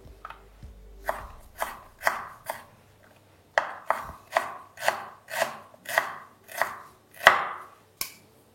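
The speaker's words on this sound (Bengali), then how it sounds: "একটু ছোট ছোট করে এই কারণেই কেটে নিচ্ছি" Ginger and green chilli being chopped into small pieces on a board, a series of crisp, evenly spaced knife strikes in two bursts with a short pause between, close and clear with no talking.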